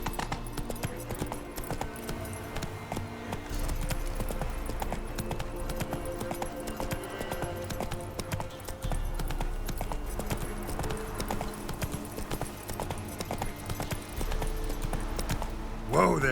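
Roach, a horse in the Witcher 3 video game, trots with steady clip-clopping hooves throughout, layered over music and game sounds, with a voice speaking near the end.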